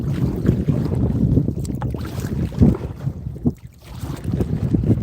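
Gusty wind blows over open water around a solo canoe on a bass fishing trip, a loud, rumbling rush buffeting the microphone that dips briefly before picking up again.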